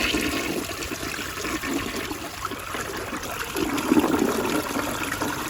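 Rheem Claymore toilet flushing with a dish towel in the bowl, a steady rushing swirl of water that swells into a louder gush near the end, heard alone without talk.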